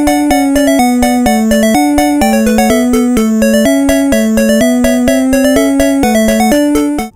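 Several Game Boy sound channels play together in a chiptune passage, with steady stepping square-wave notes over a bass line and bright harmonic tones, loud and continuous with no voices.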